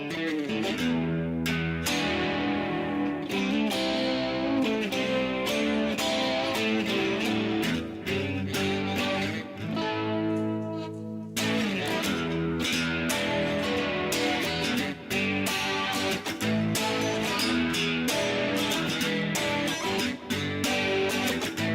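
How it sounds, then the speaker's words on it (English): An electric guitar set to pickup position 2 with light distortion plays sustained chords and melodic notes, loud and close, with a brief pause midway before the playing resumes. "Not much distortion behind that, but I think position 2 on this guitar really sings."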